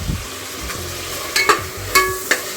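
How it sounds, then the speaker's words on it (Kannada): Tomato and onion fry in a pan, a soft sizzle running underneath while a utensil stirs and scrapes in several sharp, close clacks, with no talking. "ಟೊಮೊಟೊ ಈರುಳ್ಳಿ ಎಲ್ಲ ಚೆನ್ನಾಗಿ ಫ್ರೈ ಆಗಬೇಕು"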